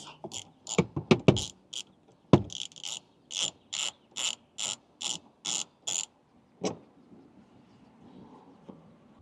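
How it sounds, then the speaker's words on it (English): A 12mm socket on a hand ratchet works loose the negative car battery terminal on a 2025 Toyota Land Cruiser 250 turbo, giving a quick burst of uneven clicks, then a steady run of about ten crisp, evenly spaced ratcheting bursts, close and alone. "We're gonna disconnect our battery using a 12mm on a ratchet."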